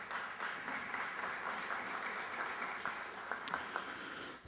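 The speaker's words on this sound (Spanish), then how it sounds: "para quienes pido un fuerte aplauso" Sustained audience applause at a municipal recycling program presentation, a dense even patter of many hands clapping throughout at moderate distance with no talk over it.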